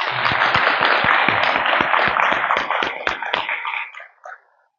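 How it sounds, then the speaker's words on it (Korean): A crowd at a Buddhist temple gathering gives a warm round of applause for new trainees. The dense, even clapping holds steady for about four seconds, then thins out to a few scattered claps before it stops. "우리 기본교육생들을 위해서 큰 박수 한번 보내주십시오"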